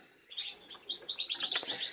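A small show songbird, a recent purchase from a national bird contest in Albacete, chirps in quick, thin, high bursts that grow busier and denser toward the end. It is close by but fairly soft, with no voices.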